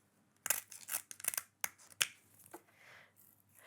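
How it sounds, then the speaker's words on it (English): Knife cutting the tail off a whole gutted, scaled snapper in a large baking dish, heard as a few sharp, close crunching snips and slices in quick succession, then softer scraping. "just to ensure that they fit, I'm just going to cut the tail off"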